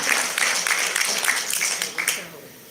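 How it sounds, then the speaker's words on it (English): An audience at a company summit claps in a loud, dense burst that stays steady for about two seconds and then quickly fades away. "Now, give yourself a round of applause"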